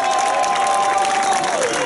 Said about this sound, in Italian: Fare un applauso.